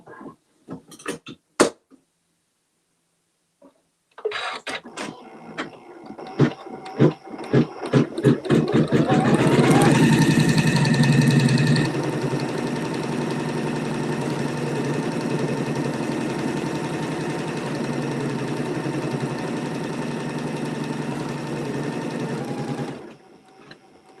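A sewing machine stitches quilt topper pieces, starting with a few slow clicks, then running in a steady, loud, close hum for nearly twenty seconds before stopping, with no talking.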